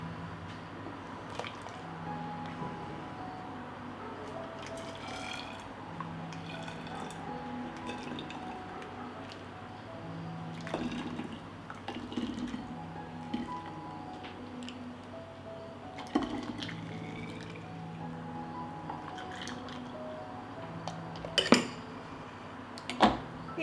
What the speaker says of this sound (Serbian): I sad ćemo sipati sok u flaše.